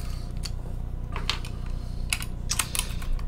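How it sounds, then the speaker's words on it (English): Keycaps being pulled off a Noxary T60 mechanical keyboard, making a few scattered sharp plastic clicks and snaps over a low steady hum. "So what we're going to do is we're just going to take all of these keycaps off."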